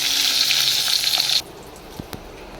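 Eggplant frying in hot oil with a loud, bright sizzle that suddenly drops to a quiet simmer, followed by two light clicks of a utensil.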